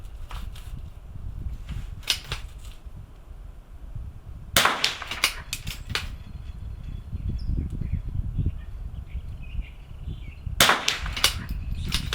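Sharp rifle shots at an NRL22 rimfire precision match stage outdoors: a few isolated, fairly loud cracks spaced several seconds apart over steady outdoor ambience with faint birdsong, no talking.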